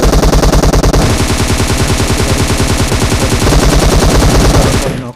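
Sustained rapid automatic gunfire in PUBG Mobile, loud and close, a dense unbroken burst of shots that carries on for about five seconds before cutting off abruptly.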